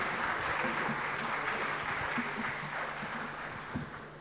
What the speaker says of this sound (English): Can we give a round of applause to the participants of the panel?